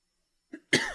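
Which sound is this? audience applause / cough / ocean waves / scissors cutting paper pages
cough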